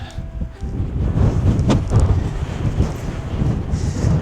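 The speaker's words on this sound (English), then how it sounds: "Damn, it's windy today." Strong wind in Wyoming roars and buffets the microphone continuously, a loud low rumble with gusty swells and no voices.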